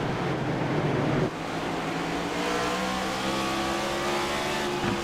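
An AREA Cup Series stock race car on track at North Wilkesboro, a loud roaring engine that drops off then builds again in a rising, whining pull off a corner, with other cars droning underneath.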